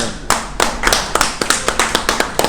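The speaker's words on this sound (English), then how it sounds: "I'm going to stand up and give this gentleman a round of applause" Applause for a man who is being honored, a short burst of claps in an uneven rhythm, close and fairly loud, with no voices over it.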